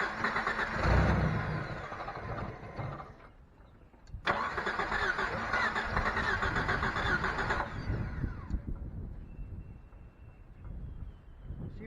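Jeep engine that sat unused for three years, cranking over with a whirring starter in two long bursts separated by a short pause, a close, loud, rough churn that fades to a lower hum after.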